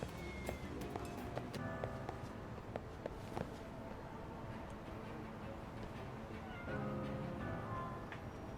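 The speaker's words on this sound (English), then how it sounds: "Kitties!" Cats meowing in the video game Lost Judgment, several clear repeated meows at moderate distance over a busy ambient game backdrop with occasional clicks.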